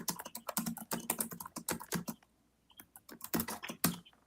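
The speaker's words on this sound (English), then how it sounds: "Someone's typing that I hear." Brisk tapping on a computer keyboard, quick clusters of keystrokes close to the microphone, broken by a short pause before another flurry of typing.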